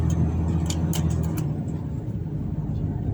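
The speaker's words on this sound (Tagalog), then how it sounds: "grabing traffic pagbitaw bitaw ng alas 10, grabing traffic talaga" Heavy night traffic on a street in Jeddah, a loud steady roar of car engines and road noise heard from inside a vehicle, with a few brief clicks early on.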